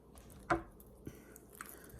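Someone bites into a spinach, cheese and ham sandwich: one sharp, close bite near the start, followed by a few faint, soft chewing sounds in an otherwise quiet room.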